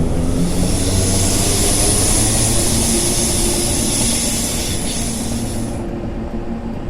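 A Class 455/456 electric multiple unit in Train Simulator 2020 pulls away with a steady, loud rumble of wheels and traction motors, a sustained high whine running over it before it cuts off near the end.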